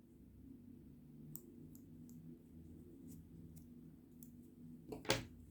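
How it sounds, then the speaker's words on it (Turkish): Scissors snipping leftover crochet yarn, a few soft clicks followed by a louder, crisper cut near the end, close and quiet with no talking. "Sıkılaştırdıktan sonra burada kalan ipi de keselim."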